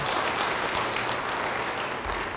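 Steady applause from a church congregation during a sermon, continuous and fairly loud throughout with no pauses.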